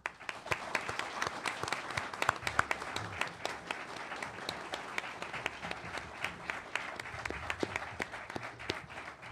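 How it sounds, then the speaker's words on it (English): An audience applauds mayoral candidates, the incumbent mayor and a police captain, at a Westfield debate; dense, steady clapping fills the hall at moderate distance and continues evenly throughout. "please join me in applauding and welcoming our mayoral candidates"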